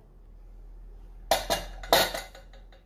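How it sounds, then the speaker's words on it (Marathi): A few sharp metallic clanks and rattles from a pressure cooker lid being lifted off, in two quick bursts after a quiet start. "आता आपण झाकण काढूया"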